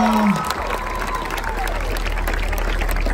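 A large crowd at a live concert claps and cheers in a continuous wash of applause, with a voice briefly audible at the start.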